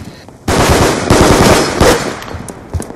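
Rapid automatic gunfire in a shooter video game, loud bursts of closely spaced shots with short pauses between them, a few scattered single shots near the end.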